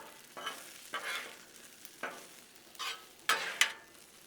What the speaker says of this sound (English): So basically just every now and then come in here and just give them a stir and kind of soften them up.